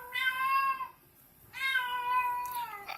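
A house cat meows twice, two drawn-out cries close by, each about a second long with a pause between, followed by a short rough squeak at the end.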